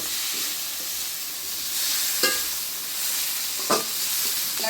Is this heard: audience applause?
no